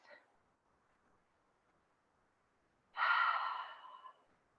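A single deep breath during a gentle flow yoga session: one close, airy exhale of about a second that swells loudly and then tapers off, following a stretch of near silence after a faint breathy sound at the start.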